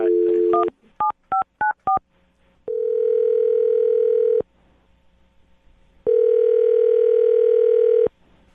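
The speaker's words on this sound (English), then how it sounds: "I'm going to dial her phone number right now." A telephone line gives a short burst of tone, then a quick run of touch-tone dialing beeps, followed by two long steady ringback tones separated by silence, clear and close with no talking.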